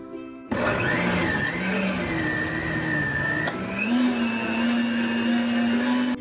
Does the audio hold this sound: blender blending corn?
yes